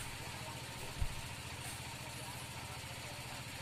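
A compact well drilling machine built to bore down to 170 metres runs its engine with a steady low, pulsing throb and one brief thump, heard fairly faintly amid outdoor noise.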